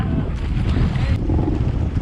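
Strong wind roars across the microphone on a small fishing boat at sea off Indonesia, a steady loud rushing with low rumble and water noise throughout, no voices.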